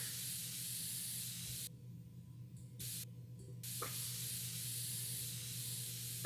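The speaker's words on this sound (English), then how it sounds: "No, we need compressed air." Compressed air sprays from a can to blow dust out of a PC in a computer-building simulator game: a steady loud hiss, broken by two short pauses, then resuming.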